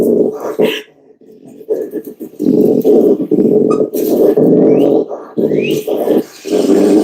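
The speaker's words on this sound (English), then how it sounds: "Bark and growl when in danger." Harsh, raspy barking and throaty growls from a raccoon in repeated bursts, with short pauses between, loud and close.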